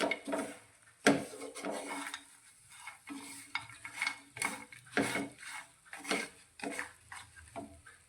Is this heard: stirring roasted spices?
yes